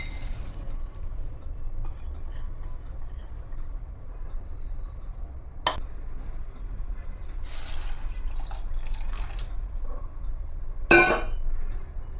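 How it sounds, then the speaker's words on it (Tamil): Tap water runs steadily into a pot of cut cluster beans, a continuous low wash with a few brief splashes and one sharp clatter near the end. "நல்லா மூழ்கிற அளவுக்கு தண்ணி சேர்த்தாச்சு"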